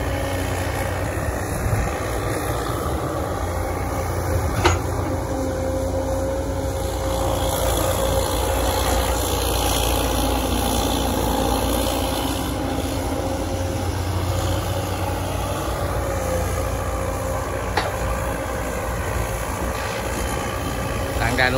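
A six-wheel dump truck delivers sand at an irrigation construction site, its diesel engine running in a loud, steady drone close by, with a person talking faintly underneath.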